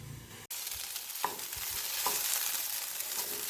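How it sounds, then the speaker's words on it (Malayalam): A spoon stirs a beetroot and potato curry in a pan, a few distinct scraping strokes over a continuous soft sizzle, close and quiet with no talking. "അപ്പോൾ ഇനി നന്നായിട്ട് ഇളക്കി കൊടുക്കാം"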